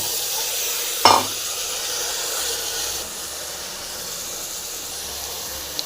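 Drumsticks fry in a pan for sambar with a steady close sizzle and hiss, and a single sharp utensil clack near the start as they are stirred.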